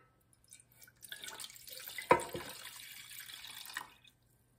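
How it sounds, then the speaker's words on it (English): Water poured into a bread machine pan while making bread from all-purpose flour, a soft trickle building into a steadier splashing stream with one louder splash near the middle, then stopping, with no talk. "So I'm going to add 1 1/2 cups of water."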